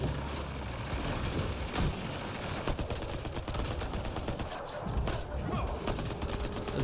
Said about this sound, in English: It's just strictly gunfire in this fight.